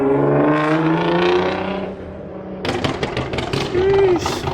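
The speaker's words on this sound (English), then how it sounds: "As I was putting the camera down, another GTR rolls in." A Nissan GT-R R35 rolls in at a car meet, its engine note droning and shifting with tonal whine, then bursts of exhaust pops and revs, with voices talking over it.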